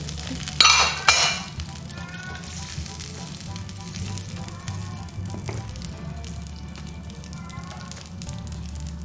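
Tempe pieces go into a pot of water for tempe soup, giving a steady simmering sizzle with a couple of sharp clinks of utensils near the start, close and continuous without talk.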